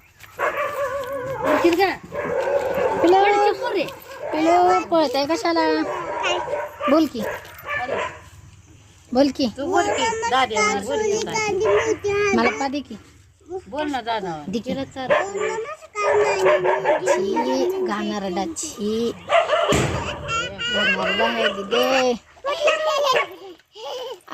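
Several dogs bark and yip in a noisy, overlapping chorus, with whimpers mixed in and people talking at times.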